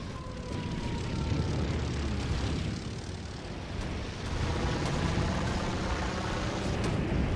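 A bomber aircraft engine in a toy soldiers video game drones steadily and loudly throughout, a dense roaring rumble with game noise mixed in.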